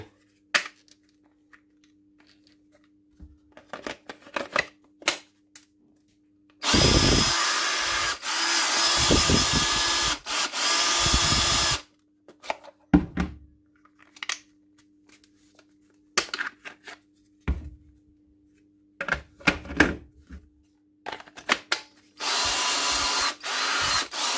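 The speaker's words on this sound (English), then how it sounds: "you can hear the difference in the running tool" A cordless Makita G Series power tool running on an Einhell Power X-Change battery whirs loudly in two long bursts, with clicks and handling noises between runs and a faint steady hum underneath.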